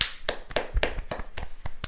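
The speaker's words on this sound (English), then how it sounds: "Clap it up." A handful of sharp, close hand claps at a podcast recording, about seven crisp strikes in an uneven rhythm over a couple of seconds, loud and dry with no talking over them.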